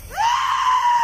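A single loud, high-pitched scream rises sharply and then holds for nearly a second, heard alone over faint background noise in a camera recording.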